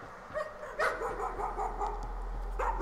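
In the horror game Layers of Fear, a dog keeps up a string of rough, growly barks and yips, a few stronger bursts standing out, heard alone without speech.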